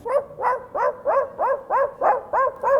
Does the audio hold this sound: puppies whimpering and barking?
yes